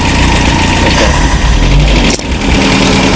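A 1968 Commer 2500 van engine running without choke gives a loud, steady, close mechanical drone with a rough, uneven idle and one brief dip near the end.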